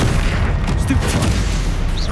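An explosive Confringo spell from the Hogwarts Legacy game lands as a loud, dense burst of rumbling blasts that roars continuously across the short moment.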